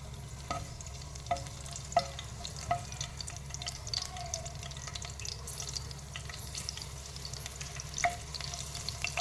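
Chilies frying in about five tablespoons of hot oil in a pan give a constant soft crackle and hiss, dotted with small sharp pops and a few utensil clicks, fairly quiet and close.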